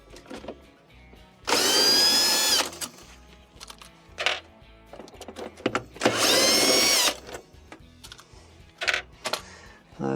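Power drill backing out the screws that hold the evaporator inside a GE refrigerator, two loud whirring bursts of about a second each with shorter spins and clicks between them, close by and with no talk.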